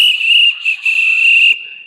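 A single clear, sustained whistled tone, bright and steady, broken by two short gaps before it stops, heard alone and close during a church sermon.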